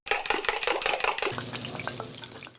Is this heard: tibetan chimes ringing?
no